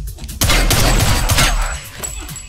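Gunfire from the action film John Wick Chapter 3: Parabellum bursts in as a loud, dense volley of shots for about two seconds, dominating the scene.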